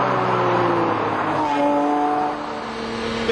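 A Ferrari F50 engine driven hard into a corner: loud, close, high-revving howl whose pitch drops and shifts as the car turns in, then climbs again.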